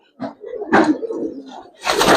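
Silver Giribaz pigeons at a sale give soft, low coos in a few short bursts, close by. A sharp knock or slam is heard near the end, and voices are faint in the background.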